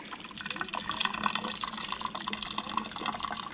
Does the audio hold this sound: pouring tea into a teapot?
yes